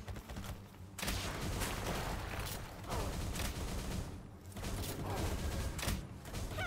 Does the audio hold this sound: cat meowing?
no